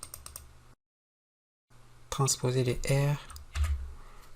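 A computer keyboard clatters with quick clicks while an Excel formula is typed, close and crisp at first. After a pause, someone speaks in French.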